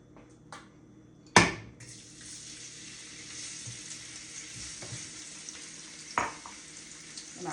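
Shrimp drop into a hot pan with sesame seed oil, setting off a loud burst of sizzling that settles into a steady fry, with a second sharp hiss as more food goes in.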